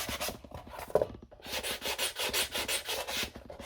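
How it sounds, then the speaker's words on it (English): A very low grit sanding sponge rubs and buffs the surface of a Death Korps of Krieg cosplay shoulder armour piece in close, steady back-and-forth strokes, with a brief louder knock partway through and no voices. "This is just a very low grit sanding sponge, and I will buff the surface"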